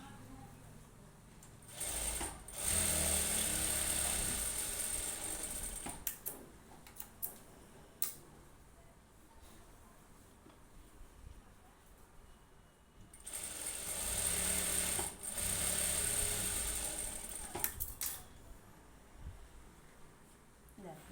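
A sewing machine stitches an embroidered blouse in two long bursts of fast, steady mechanical ticking, separated by quieter handling noises and pauses.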